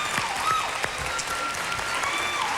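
A studio audience on a country music TV show gives a steady round of applause for a guest, continuous clapping at a moderate distance with faint tonal sounds beneath it.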